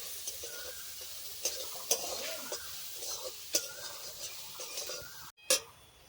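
Ground chana dal fries in a pan for motichoor laddu, with a quiet sizzle throughout. A spoon scrapes and stirs in irregular strokes, with a few sharp clinks against the pan.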